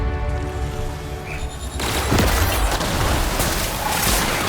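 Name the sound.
gunfire in the video game The Outer Worlds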